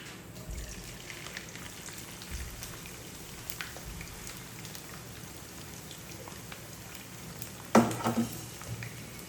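Onions go into hot oil in a pan for fried onions, and a steady, fine crackling sizzle follows, with a louder burst of spattering near the end.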